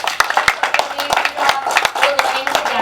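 A small group applauds the officers at a RotaKids club meeting, with close, distinct hand claps forming an uneven patter, some voices mixed in among the clapping.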